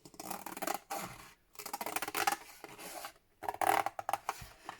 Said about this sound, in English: and obviously the longer your scissors, the less snips you need to make